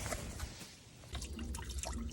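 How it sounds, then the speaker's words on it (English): Hot water drains from a MerCruiser 3.0 marine engine block through a removed brass plug, a faint, close trickle and splash running steadily throughout. "So here we are draining the block."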